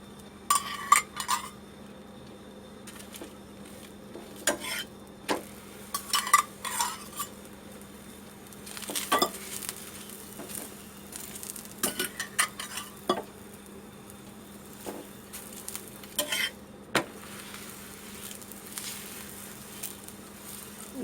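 A spinach paratha cooks on an oiled pan with a low steady sizzle under repeated clinks and scrapes of a spatula against the metal, short bursts of clatter spread irregularly, nearby and fairly quiet.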